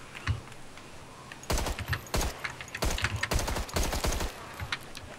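Gunfire from the first-person shooter Contagion, a series of sharp automatic bursts and single shots clustered in the middle of the clip, fairly close and loud over a faint background hiss.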